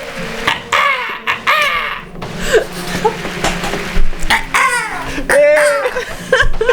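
A person imitates a crow's caw with a series of harsh, rasping calls in short bursts, close and loud, with breathy pauses and gasps between them.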